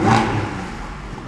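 A 2020 Porsche 718 Cayman GT4 with a flat-six engine and sport exhaust revs once near the microphone. The sound swells sharply at the start, then settles into a steady, throaty drone.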